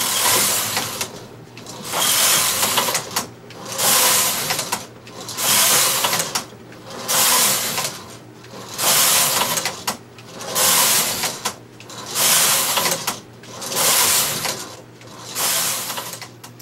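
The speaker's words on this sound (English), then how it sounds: "I've got this zoomed in on the card reader now, so hopefully you could see the card going up and down." A studio electronic knitting machine with a card reader runs as its carriage sweeps back and forth in about eight regular passes. Each pass is a loud, close, hissing mechanical clatter, separated by brief quieter pauses.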